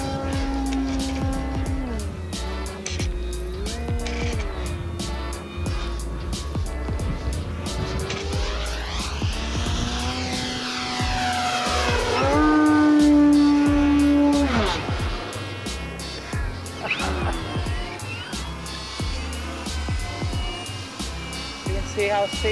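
A Cap 232 model airplane flies on a windy day under a tornado watch. Its buzzing engine rises and falls in pitch as the plane swoops past, loudest in a near pass midway, over constant wind rumble.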